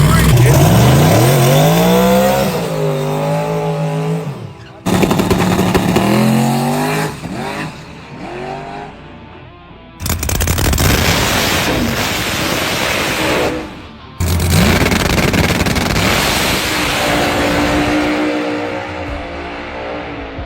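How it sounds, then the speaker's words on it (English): A loud turbocharged drag car engine revs hard and roars past nearby at a drag racing event, dropping out briefly between bursts, with people talking over it. "Here come another one of these turbo cars."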